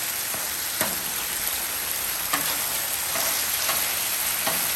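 Chicken filling with a sugar and cornstarch sauce sizzles steadily in a pan for Asian lettuce wraps, with soft scraping stirs and occasional light taps of the utensil over the constant frying hiss.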